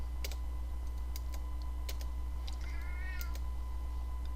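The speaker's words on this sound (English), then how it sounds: "sorry, that's my cat." A pet cat gives a short, faint meow partway through, alongside intermittent computer keyboard clicks over a steady electrical hum.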